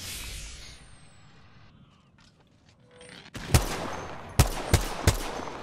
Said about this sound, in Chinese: 我冇睇错，骨人开枪嘅